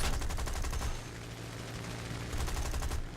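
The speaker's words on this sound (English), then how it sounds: "And I'm down to my machine guns." Rapid aircraft machine-gun fire in War Thunder, a BF-109 F4 fighter, with dense bursts of rattling rounds at the start and again near the end, a quieter engine-like stretch between, and no talk.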